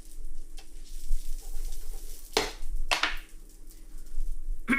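Mushrooms and vegetables sauteing in a pan, a soft continuous sizzle with a few louder stirring scrapes, close up, no talking.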